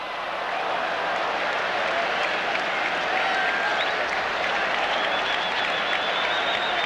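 A baseball stadium crowd applauds and murmurs in a broad, continuous roar, distant and even, filling the whole stretch without a break or a clear voice on top.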